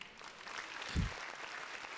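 A short round of applause on a podcast sounds faint and thin, likely from a small group or a sound effect, with a brief low thump near the middle.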